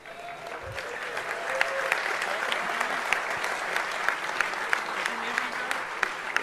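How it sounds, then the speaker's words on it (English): An audience at the DEFCON 20 closing ceremonies claps in sustained, dense applause with scattered sharper claps standing out, heard from within a large hall. "They were clapping you."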